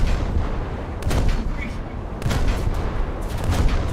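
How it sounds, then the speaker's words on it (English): In a naval video game, a heavy bomb bursts beside a ship, giving loud rumbling booms and sharp cracks of explosions and gunfire that come in bursts close by. "that was a big bomb landing next to the Hawkwind"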